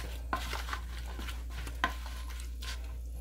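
Shrimp stirred in a hot frying pan for shrimp fried rice: soft scraping strokes over a light sizzle, punctuated by a few sharp clicks of the utensil against the pan.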